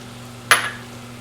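A single brief scrape and sizzle as flour is stirred into melted butter in a pan for a cheese soufflé, a short bright burst over a steady low hum that quickly fades.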